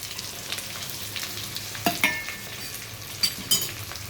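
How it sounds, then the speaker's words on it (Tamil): Small shallots and garlic sauté in a pan for a garlic tamarind kuzhambu, giving a continuous close sizzle broken by a few sharp clinks of a stirring spoon against the metal. "இப்போ இந்த வெங்காயம் பூண்டு வதங்கிக்கிட்டு இருக்கு"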